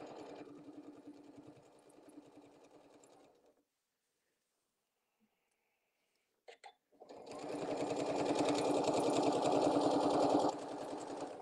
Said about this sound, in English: I just need to come over here and backstitch